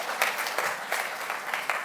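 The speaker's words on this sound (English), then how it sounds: "Applause again," Audience applause at a university staff excellence awards ceremony, a steady patter of many hands clapping at moderate distance, continuous and even with no voices over it.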